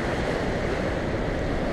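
Ocean waves breaking and washing over rocks along a rocky shoreline, a steady dense roar of surf with wind noise on the microphone, no talking.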